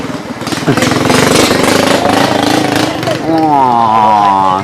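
A loud boat engine runs close by with a throbbing, buzzing drone, its pitch sliding lower toward the end; a voice briefly rises over it.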